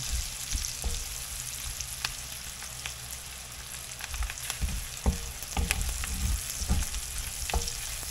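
Onions sizzle and fry steadily in a hot pan while being stirred for ginisang kalabasa, a home-cooked squash sauté with pork belly; a continuous close crackle with scattered spatula clicks and scrapes, no talking.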